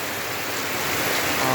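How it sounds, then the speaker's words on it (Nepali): Heavy rain pours steadily in Sindhupalchok, Nepal, a dense, even hiss of falling water that swells slightly toward the end, with no voices over it. "हाम्रो सिन्धुपाल्चोक जिल्लामा चाहिँ पानी धुमधामसँगले परिरहेको छ"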